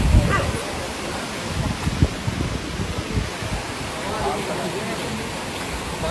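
A waterfall beside the entrance of Kondeshwar temple near Badlapur sends up a steady, close broadband rush of falling water, with a few low thumps and faint voices beneath it.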